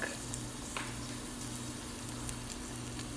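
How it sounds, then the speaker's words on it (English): Garlic sautéing in two tablespoons of oil in a pan for pumpkin methi paratha, a steady close sizzle with faint crackles running throughout, no voices. "Next, you take oil and put 2 tablespoons of it in a pan. And then you add the garlic"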